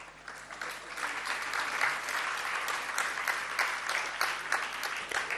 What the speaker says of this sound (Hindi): आपके तालियां मुझे अच्छी नहीं लग रही।